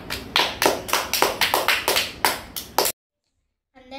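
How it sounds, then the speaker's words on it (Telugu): Audience applause from a group gathered for a Gita Jayanti recitation: a burst of quick claps in uneven rhythm, fairly close, then a sudden cutoff into silence before a voice begins. "ఓకే, క్లాప్స్ కొట్టండి,"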